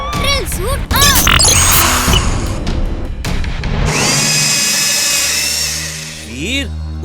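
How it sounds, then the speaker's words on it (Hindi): A robot's drill suit powers on in a 3D kids' action cartoon, a dense burst of whooshing, whirring mechanical effects and a sustained high tonal hum, loud and layered with music and voices. "Drill suit on."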